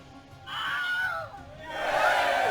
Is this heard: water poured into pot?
no